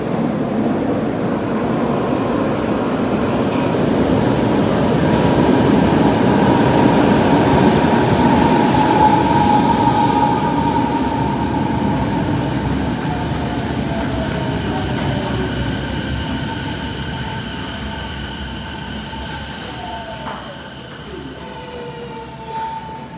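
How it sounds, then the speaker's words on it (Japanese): A subway train pulls into the underground platform at Sannomiya station in Kobe, a loud, steady rumble with rising and falling tonal whines as it slows, lasting throughout with no talk. "静清中央行き電車が参ります"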